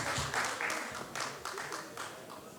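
An audience claps at a Congolese independence anniversary event in Germany, a moderate burst of hands that starts fuller and gradually thins, with murmured voices mixed in.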